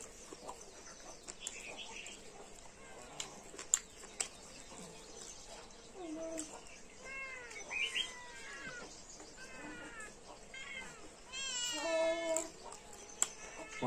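A cat meows several times at close range, its rising and falling cries scattered through a quiet scene with occasional taps and small clatters, growing louder near the end.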